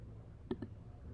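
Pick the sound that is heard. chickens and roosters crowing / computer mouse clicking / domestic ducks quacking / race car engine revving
computer mouse clicking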